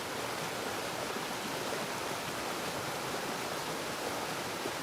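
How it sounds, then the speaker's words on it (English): A natural waterfall in central Tbilisi, fed from the botanical garden, produces a steady, dense rushing hiss of falling water, constant and unbroken, with no voices. "So this is a natural waterfall that comes from the botanical garden"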